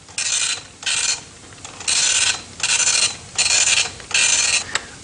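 An old microcomputer's printer prints out a script in six loud mechanical bursts of rasping print-head travel, each about half a second long and split by short pauses, with no voices.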